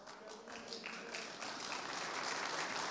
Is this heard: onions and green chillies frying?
no